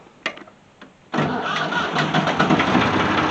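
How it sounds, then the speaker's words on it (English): A farm tractor engine cranks with a couple of short clicks, then catches at about one second and settles into a steady, loud, close diesel rumble and idle. "Tractor starts."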